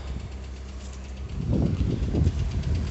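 A cold 1989 VW Golf 2 with the 1.8 engine and Pierburg carburetor running after start-up, a steady low rumbling idle close by that grows slightly rougher and louder partway through, with no talking.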